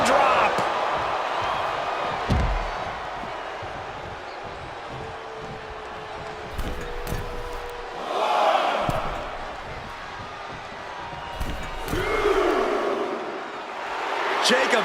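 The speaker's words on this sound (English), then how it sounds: "Uh-oh. Samoan drop." A wrestler crashes onto the mat from a Samoan drop by Jacob Fatu at a WWE Raw show, a dull thud rising out of steady arena crowd noise as the audience swells and roars, with commentary running over it.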